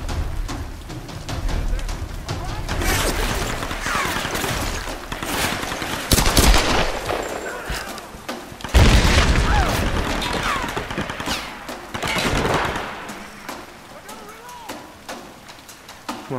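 Sustained bursts of gunfire and booms from a Tomb Raider Definitive Edition firefight on hard difficulty, loud and continuous with heavy volleys, while a player talks over the action.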